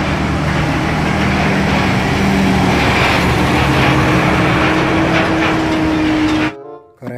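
Toy Pertamina tanker truck with a steady, loud engine rumble and a thin whining tone running through it, holding evenly before cutting off abruptly near the end.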